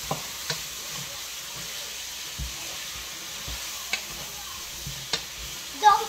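Chop suey with carrots is stirred in a frying pan, a low continuous sizzle broken by occasional scraping knocks of the utensil against the pan, ending in a louder clatter.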